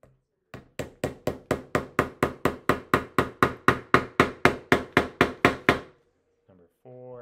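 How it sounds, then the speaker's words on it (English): Steady, evenly spaced hammer blows driving a nail into wood, about twenty sharp knocks in a row, loud and close, then a brief pause. "Just hammering the nail."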